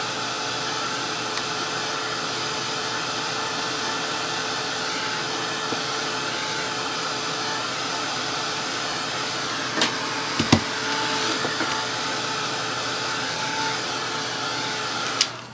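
A hair dryer blows steadily and loudly up close, drying damp acrylic paint on an art journal page. A few short knocks break into the unbroken whir midway.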